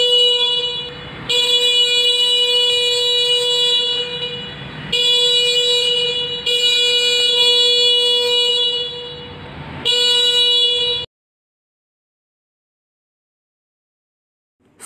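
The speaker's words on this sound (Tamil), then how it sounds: "இந்த வாகனத்தோட ஹார்ன் சத்தம் எப்படி இருக்குது" Loud, high electronic horn of a Pure EV eTrance Neo electric scooter blasts repeatedly in several long bursts with short gaps, ending abruptly in silence.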